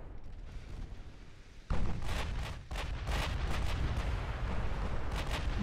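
Naval artillery in the warship game Ultimate Admiral Dreadnoughts fires a sudden loud boom, followed by a sustained barrage of overlapping heavy gun blasts and rumbling.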